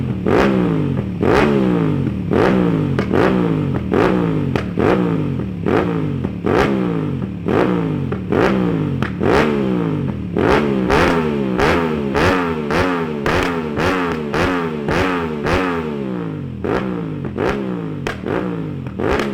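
An Aprilia 660 Factory motorcycle fitted with an SC Project full exhaust is revved hard again and again nearby, each loud blip rising and dropping in quick succession in a steady rhythm of throttle bursts.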